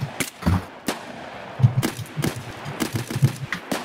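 Video-game gunfire from the player's own weapon, a run of sharp close shots in irregular bursts and single cracks over a low rumble, with no talking.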